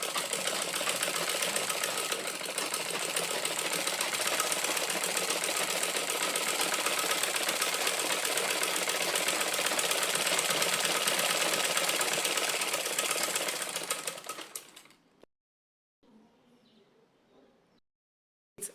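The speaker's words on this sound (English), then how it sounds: "Then you are going to sew it the second time." A sewing machine runs steadily at close range while stitching a second pass along a corset bone channel, a continuous whirring hum that stops abruptly near the end, leaving near silence with a faint brief rattle afterward.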